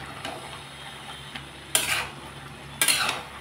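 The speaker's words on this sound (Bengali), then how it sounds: "এখন আমি ভালোভাবে নাড়াচাড়া করে আবার ঢেকে" A spoon scrapes and clinks against a pot of vegetable curry, two sharp stirring bursts standing out over a faint low simmer, close by with no talking.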